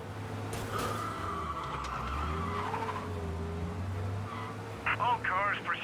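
Car chase in the Mafia video game set in 1930, with an engine droning and tires squealing and skidding through turns, under a voice and other game sounds.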